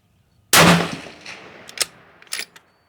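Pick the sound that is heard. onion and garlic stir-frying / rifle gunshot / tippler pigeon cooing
rifle gunshot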